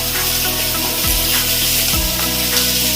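Beetroot, carrot and other mixed vegetables fry with masala in a pan for an Odia ghanta tarkari. A loud, dense sizzle fills the clip, with a steady low hum and a couple of brief scraping stirs.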